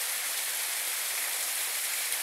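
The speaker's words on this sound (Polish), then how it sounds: "i ten szum wody spadającej do sztolni na pewno jest więcej słyszalny" A mountain stream pours down into the Złota Sztolnia mine adit near Zieleniec, a continuous hissing rush of falling water that is close and constant, with no voices.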